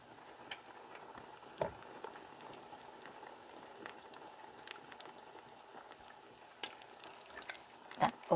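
Caramelized pork feet with quail eggs simmer in a pot, giving a quiet, steady bubbling with occasional soft pops and clinks.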